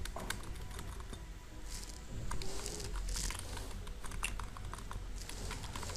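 Someone types a prompt on a computer keyboard, producing a steady run of quick, light key clicks at close range with a brief louder patch midway and no talk.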